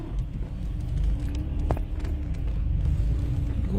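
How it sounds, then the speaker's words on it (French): A big truck rolls past on a road, a steady low rumble of engine and tyres that stays loud and close for the whole few seconds with no talking over it. "Maman, le gros camion."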